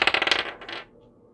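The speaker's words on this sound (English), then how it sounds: "So I'm going to roll the dice to see what zodiac signs you're dealing with." Dice tumbling and clattering across a hard surface in a quick burst of rapid rattles that slows, ending in a faint final tap, close and alone.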